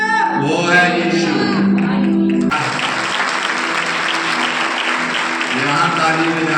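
Applause from a congregation at a church Christmas celebration, a dense burst of clapping that breaks in after someone speaks and then continues steadily.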